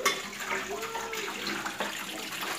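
Water runs steadily from a tap while beef tripe is rinsed in a kitchen sink, a close, continuous splashing with no talk over it.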